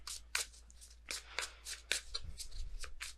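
Tarot cards are shuffled and drawn in quick papery riffles and slaps, a dozen or so crisp bursts in an uneven rhythm, close and fairly quiet, with a faint low hum underneath.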